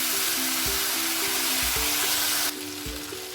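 Spices and tomato puree fry in a pan, giving a loud, steady hissing sizzle while a utensil stirs through, with soft scraping thumps; the sizzle drops noticeably partway through.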